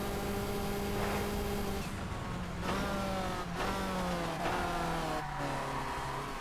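Race car engine revving hard through a flying lap of the Nürburgring in TOCA Race Driver 3, a Class B 4WD car, with continuous loud engine drone and rising pitch sweeps as it shifts gears and brakes, no talking.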